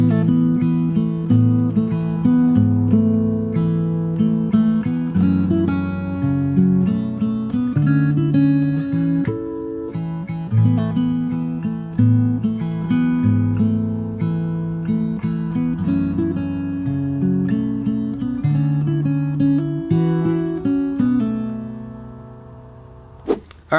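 Fingerstyle acoustic guitar plays the first part of the chorus of a song from Hamilton: a steady run of plucked notes and chords, close and clear with no voice, ending on a final sustained chord.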